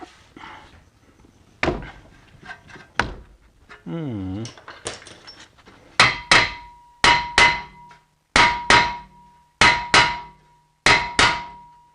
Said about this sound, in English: I might need a bigger hammer.